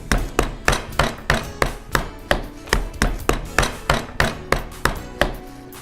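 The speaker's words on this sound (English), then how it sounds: "We can keep pounding this now. We want it about 1/4 inch thick when we're done." Pork tenderloin is pounded flat from the center outward, giving a steady run of about fifteen sharp, evenly spaced thuds, close and loud, with no talking.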